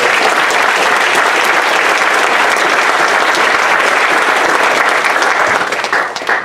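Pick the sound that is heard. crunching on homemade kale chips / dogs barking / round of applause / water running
round of applause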